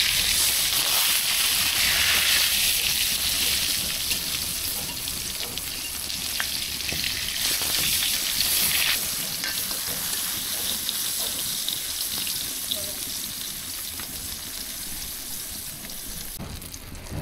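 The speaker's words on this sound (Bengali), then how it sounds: "বেগুনগুলো দিয়ে দিচ্ছি। বেগুন এক পাশ ভালো হয়ে গেছে।" Eggplant pieces fry in hot oil in a home kitchen, a continuous bright sizzle with occasional scraping and stirring clatter, fairly close and steady throughout.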